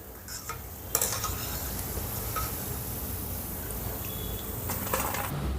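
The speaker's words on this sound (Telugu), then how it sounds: "స్టవ్ని మీడియం ఫ్లేమ్లో పెట్టి ఫ్రై చేసుకోవాలి" Pakodi fritters frying in hot oil over a medium flame, giving a steady close bubbling sizzle throughout with a few faint clinks of a utensil.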